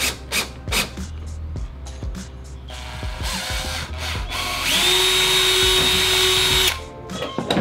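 A power drill bores holes through a kayak hull while hardware for an Anchor Wizard low-profile mount is fitted. Scattered clicks and knocks lead into a loud, steady high whine from the drill, close up, with no voices.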